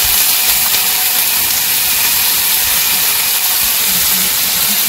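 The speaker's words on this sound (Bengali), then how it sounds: "তেলের মধ্যে তো পেঁয়াজ দিয়ে দিচ্ছি" Onions drop into hot oil in a village kitchen and sizzle with a loud, continuous, steam-like hiss that stays even throughout, close to the listener and with no talking.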